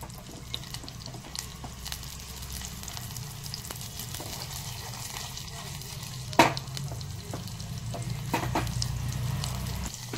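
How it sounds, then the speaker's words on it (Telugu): A homemade hair-mask oil mixture crackles while heating gently in a pan, producing a soft, continuous sizzle with scattered small pops and one sharper crack. "సో చిటపట అంటున్నాయి కదా, లైట్గా హీట్ అయితే చాలు అనమాట"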